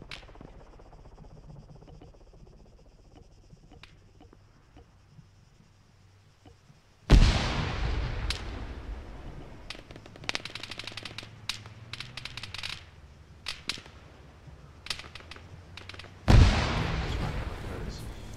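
Rockets explode and guns fire in a live-streamed video game, with two sudden loud blasts and bursts of rapid clatter between them over a quiet background hum.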